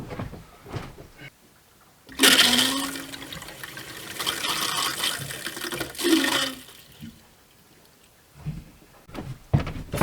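Water rushing through household plumbing as the supply is turned back on in a house being checked for leaks, a loud steady flow that starts abruptly, runs for several seconds, then fades to quieter knocks and clatter.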